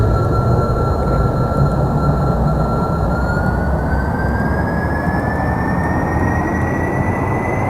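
Jet engine in Kerbal Space Program spooling up for launch, a loud roaring rumble with a rising whine climbing steadily in pitch over several seconds, continuous and close.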